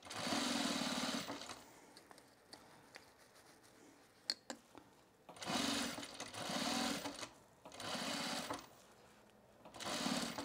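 Sewing machine stitching elastic into the binding of a fabric oven mitt, close, loud bursts of rapid stitching separated by pauses with light handling noises.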